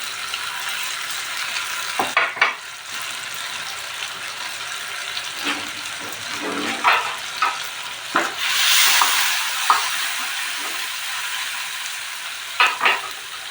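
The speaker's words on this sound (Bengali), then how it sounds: "আমি এখন টমেটো দিয়ে দেবো।" Tomatoes fry in a pan for a home-style pasta sauce, a soft continuous sizzle with scattered sharper scraping strokes as they are stirred, close by and moderately loud.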